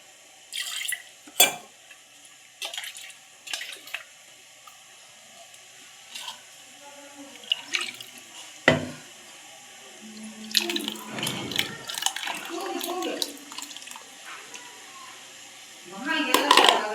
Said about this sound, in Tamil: இன்னும் கொஞ்சம் தண்ணி விடலாம்.